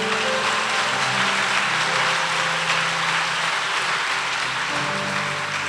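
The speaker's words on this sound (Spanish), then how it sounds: "Denle un aplauso al Señor." A church congregation applauds during a pastor's sermon, giving a dense, continuous wash of clapping that holds at an even level throughout, with a low hum of voices or music beneath.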